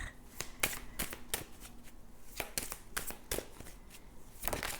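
Tarot cards being shuffled and drawn during a reading, a run of crisp riffles and quick slaps repeating in close, moderately quiet bursts with short pauses between them.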